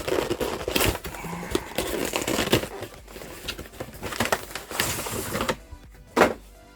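A Pikachu Zenith Supreme Pokémon card box being opened by hand: crinkling and crushing of cardboard and plastic wrap, with soft thunks and rustles scattered across the clip, fairly close, and a sharper knock near the end.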